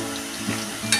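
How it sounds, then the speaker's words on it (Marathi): Crisp Gujarati masala mathri dough pieces frying in hot oil, giving a short, steady sizzle with a brighter crackling burst near the end. "त्या अशा एका चपातीच्या सगळ्या टाकून आपण तळून घेऊया।"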